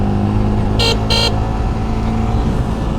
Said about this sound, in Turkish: Kornasına bakayım.